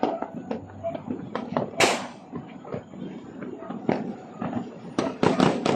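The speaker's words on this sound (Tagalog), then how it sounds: "Grabe yung paputok ni Bigla, no?" Firecrackers going off in a province of the Philippines at New Year, a string of sharp irregular bangs and pops near and far, one loud crack standing out, with voices chatting in between.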